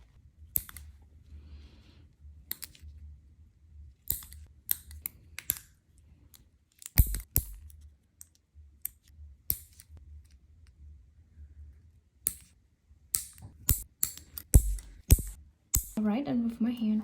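Nail clippers cut the sides of polygel nails into a round shape, giving a series of sharp, close clicks and snaps spaced irregularly over quiet background, with a voice briefly at the end.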